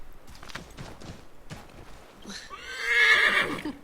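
A horse in the video game Assassin's Creed 3 whinnies loudly and shrilly near the end, following a stretch of soft clopping hoofbeats and low background sounds.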